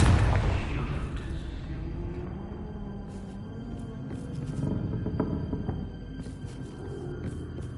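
A Confringo fire spell blast in Hogwarts Legacy, a loud booming explosion that decays over a couple of seconds into a rumbling tail, followed by scattered crackles and faint clicks.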